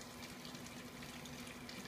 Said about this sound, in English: It's watering into the mixing tank.